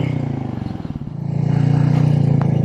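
Royal Enfield Meteor 350 motorcycle with the catalytic converter removed, a low pulsing single-cylinder thump close by, dipping briefly before rising into a steady drone under rushing wind.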